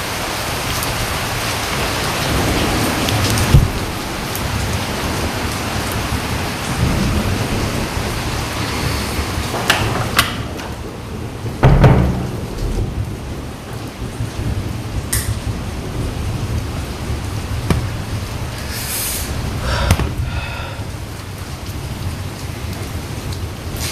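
Heavy rain pours steadily during a camping trip, a dense continuous wash of drops with several sharp, loud thunder cracks and rumbles breaking through at intervals, no voices.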